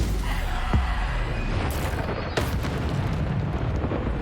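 Explosive spell blasts from combat in Hogwarts Legacy, a deep rumbling boom followed by two sharp bursts under continuous low crackling battle noise.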